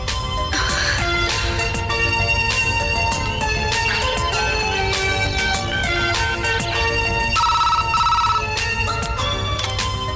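A loud, steady electronic mobile phone ringtone plays continuously, its melodic tones repeating throughout with no voices.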